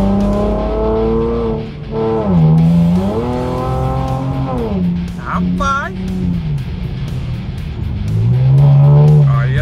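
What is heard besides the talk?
Chevrolet Camaro braking and driving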